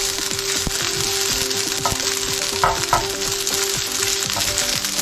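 Small pieces of fish fry and sizzle steadily in a pan, a dense close crackle with occasional brief louder pops and stirring scrapes, no voices.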